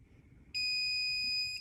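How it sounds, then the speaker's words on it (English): Electronic powder measure on a reloading bench sounds its all-clear buzzer while charging powder for .500 Smith & Wesson Magnum revolver cartridges, a loud steady tonal beep holding for about a second after a quiet start. "Waiting for the all clear buzzer."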